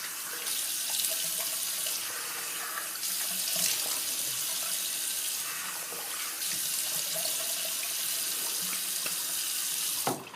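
Tap water runs in a steady, close hiss and splash while a razor is rinsed under it, continuing for about ten seconds before cutting off.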